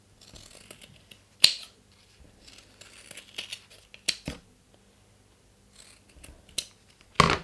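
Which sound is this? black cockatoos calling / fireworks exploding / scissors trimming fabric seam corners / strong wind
scissors trimming fabric seam corners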